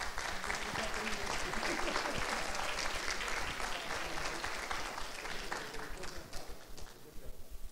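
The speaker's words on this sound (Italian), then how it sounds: "Doppio applauso." Audience at a university Biosciences diploma ceremony applauding in a sustained wash of clapping that stays fairly even, then thins slightly toward the end.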